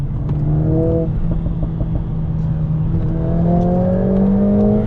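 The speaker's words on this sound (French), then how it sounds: "Oh mais ce son à l'échappement" A 2020 Mercedes-AMG A45 S accelerates, its exhaust giving a loud, steady drone with rising engine tones that climb, dip through a gear change, then climb again, heard up close from inside the car.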